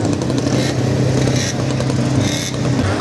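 A motorcycle engine running at an oldtimer expo at the Millenáris velodrome: a steady, fairly loud mid-pitched engine drone with slight rises in revs, close by and continuous.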